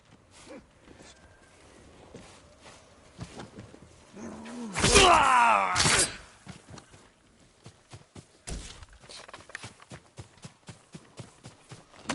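Horse hooves clip-clop in Ghost of Tsushima, scattered soft footfalls at a walking pace with a louder burst of rustling and a groan midway, then more steps; no talk.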